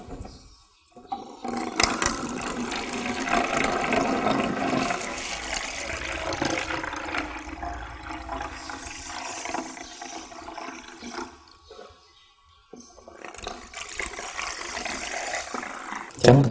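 Water poured into a container for a school biology experiment on plant leaf transpiration, a steady splashing rush that starts after a second, runs loud for about ten seconds, pauses, then resumes near the end.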